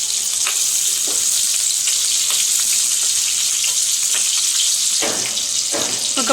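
Onions and green chilies sizzle steadily in hot oil for a temple-style sambar, a loud continuous hiss with occasional stirring scrapes and clinks near the end.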